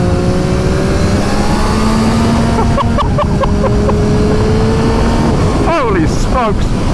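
A Triumph Street Triple 765RS motorcycle with a RapidBike Evo module rides a road shakedown run, its engine droning loud and close, then revving through rising and falling gear changes near the end, with heavy wind rumble throughout.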